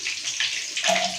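Water poured or running into a pan while chicken pakoda is being cooked, a steady splashing rush that shifts in tone partway through, close and loud with no talk over it.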